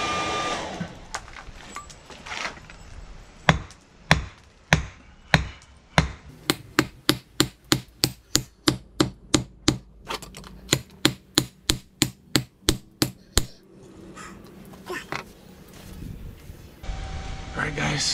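Hot rebar being hammered while forging a knife: a quick, steady run of about two dozen sharp metallic blows in even rhythm, with quieter handling noises before and after.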